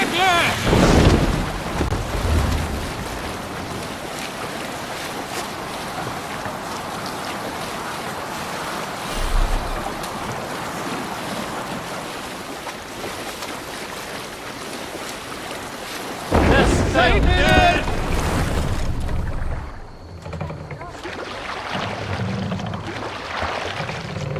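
A Viking longship sails the open sea in Assassin's Creed Valhalla, with steady wind and rushing waves against the hull, louder surges near the start and around the middle, and a voice briefly calling out.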